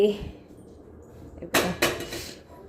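A pot clatters in a home kitchen as milk is set on to heat, with two sharp metallic knocks close together after a quiet stretch and faint voice-like sound at the start.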